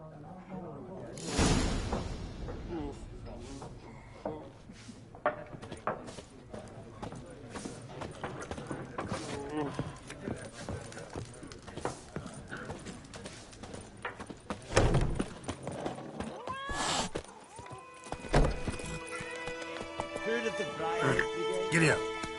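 A horse's hooves clip-clop steadily in the Witcher 3 video game. The rhythmic beats run under a voice, with a few louder thumps and a snort.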